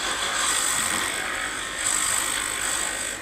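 Wooden cross blank spinning on a woodturning lathe as a gouge roughs it down, giving a steady, close, buzzing whir of cutting with a slight swell partway through and no talk.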